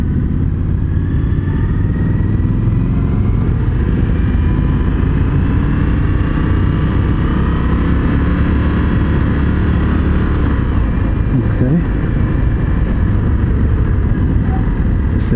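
Indian FTR1200 motorcycle engine on a demo ride, a loud continuous rumble mixed with heavy wind roar, the engine note rising and falling slightly with the throttle.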